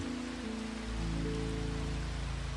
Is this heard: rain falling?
yes